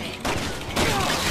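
Gunshots in Resident Evil 6 land in two quick loud bursts of close gunfire within a second.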